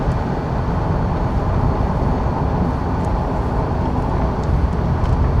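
A 1995 Ford Crown Victoria LX drives and picks up speed, its engine and road roar forming a steady, loud, broadband drone from inside the car, with no talking.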